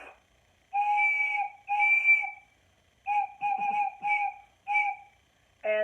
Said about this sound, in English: This one is a wooden whistle.